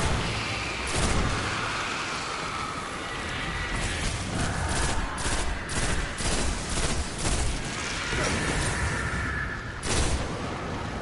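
Bursts of video game gunfire crackle over a steady hum of battle noise, with several sharp shots and short volleys spread across the stretch rather than one continuous stream.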